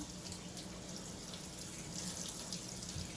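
Sink tap water runs steadily over spinach in a strainer, a constant hissing splash, close and fairly quiet, with no voices.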